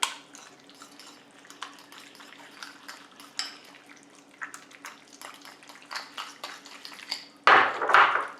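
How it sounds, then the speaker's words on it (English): A fork mashing and whisking peas in a bowl makes repeated soft scraping and clinking taps, close by and fairly quiet, with a louder burst of clatter near the end. "I'm just going to take my fork and start almost like whisking it up"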